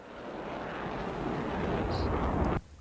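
An F-16 jet flying overhead in the Digital Combat Simulator game, heard from outside the aircraft: a loud, steady broadband engine roar that swells slightly and then cuts off abruptly.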